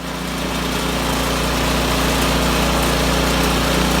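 Poulan Pro 27-inch snow blower engine at half choke, failing to start, with a steady loud motor drone that holds from start to finish with no break.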